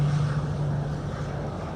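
An Embraer Super Tucano turboprop trainer takes off for a four-lap circuit at 1000 feet, its engine a steady low drone with a constant hum, moderately loud and unbroken.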